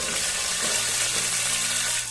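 Mustard seeds, urad dal and curry leaves frying in hot oil give a steady, close hiss and crackle that runs without a break, with no voices.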